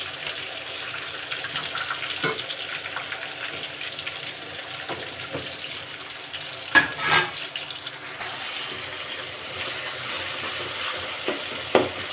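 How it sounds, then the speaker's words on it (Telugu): Fish frying in a pan for a village pond fish curry with drumsticks, a steady low sizzle with occasional louder spits and stirring clatter. "ఇక్కడ ఫిష్ కూడా ఫ్రై అవుతున్నాయి"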